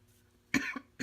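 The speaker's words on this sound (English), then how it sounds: "I still have a little bit of a cough" One person coughs nearby, a rough burst followed a moment later by a second shorter cough, against a quiet room.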